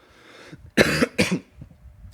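Two sharp, close coughs with a throat-clearing rasp from a person with a dry throat, separated by a short pause, loud against a quiet background with no talking.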